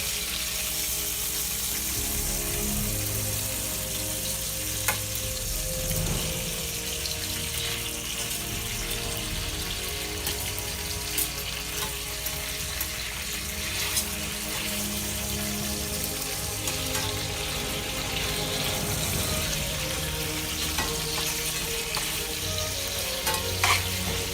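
Extra-thick bacon frying in a pan, a steady dense sizzle and crackle with occasional sharp pops, close and continuous.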